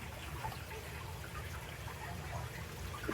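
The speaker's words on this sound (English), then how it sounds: "I do love a water feature." A garden water feature trickling softly at a garden centre, a quiet continuous dribble of water with a low steady background rumble.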